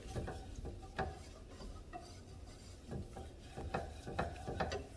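Flour being stirred into cooking oil in a pan to form a roux, a steady scraping and rubbing with scattered sharper clicks of the utensil against the pan, close and fairly quiet, with no talking.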